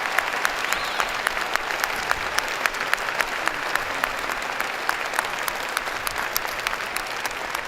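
Applause from a large commencement audience honoring first-generation graduates. Dense, sustained clapping fills the hall at an even level throughout, with a few sharper individual claps standing out.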